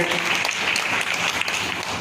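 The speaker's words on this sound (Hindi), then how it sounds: "उन बच्चों के लिए सभी ताली बजाएं" Audience applause at a community meeting, dense and continuous, with many hands clapping steadily throughout at an even level, no voices standing out.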